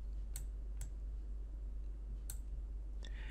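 A few sharp computer mouse clicks, four spaced taps over a steady low hum, while inserting a border or frame in Microsoft Publisher.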